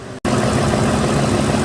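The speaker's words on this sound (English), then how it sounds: "the timing chain rattle is considerably quieter now with some real engine oil in it" A 2006 Ford F250 with the 5.4 engine idles steadily and loud up close after a brief cut at the start, with a timing chain rattle in its fault condition.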